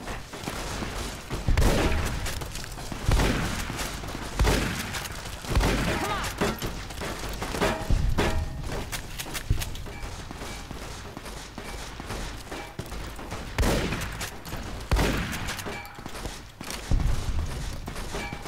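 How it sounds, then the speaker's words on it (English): Laser rifle gunfire in the video game Fallout: New Vegas, recurring bursts of sharp shots and booms spread across the span, loud against a busy game soundscape. "Holy crud, that one's got a bloody laser rifle."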